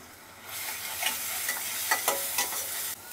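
Dry whole spices, including mace, frying in a pan for chicken masala curry, a close crackling sizzle broken by several sharp scrapes as they are stirred.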